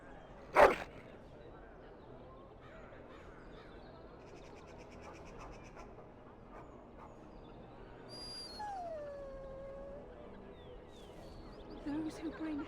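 A dog yips and whimpers in Dragon Age: Origins, a sharp close yelp at the start followed by softer whines, with game music and a voice talking over it.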